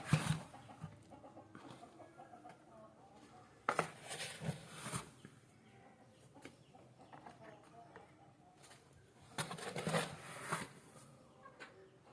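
Native country chickens cluck and squawk close by in scattered bursts, with a few louder flurries, while people talk in the background.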